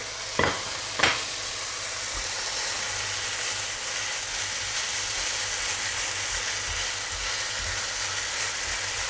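Minced meat hits a hot pan for a sweet-potato hachis parmentier, two quick thumps and then a steady, even sizzle that carries on unbroken with no talking.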